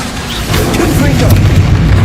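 The Confringo fire blast spell explodes in Hogwarts Legacy, a loud booming burst that swells after a moment into sustained rumbling, with a voice shouting over it.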